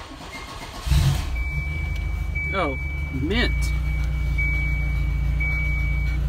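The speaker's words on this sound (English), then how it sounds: "Let's just rev the engine up so you can hear this bad boy" A Volvo 240 engine fires up with a thump and settles into a deep, loud idle, then revs up briefly and holds a strong steady rumble. A thin steady beep runs over it, and a voice speaks briefly.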